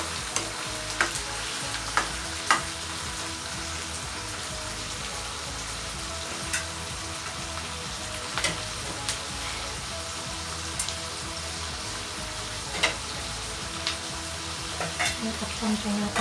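Squid sizzles steadily in a hot pan while a spoon stirs it, with scattered sharp scrapes and clinks over continuous frying for an adobong pusit sa gata.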